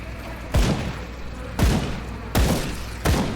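A shotgun fires in the action role-playing game Grim Dawn, four heavy booming blasts spaced under a second apart, each with a deep thud and a short decaying tail, loud over a steady game background.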